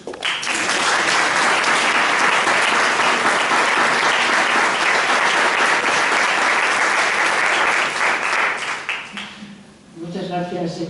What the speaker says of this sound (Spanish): Lo primero de todo, pues la damos un aplauso porque se lo merece.